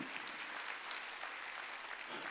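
Congregation applause at a church Wednesday worship service, steady dense clapping from many hands, moderately distant and sustained throughout.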